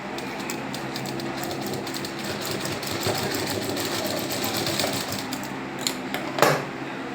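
Domestic sewing machine stitching elastic onto cloth for a middy, running steadily and continuously at close range with a rapid mechanical chatter, and a brief louder clunk near the end.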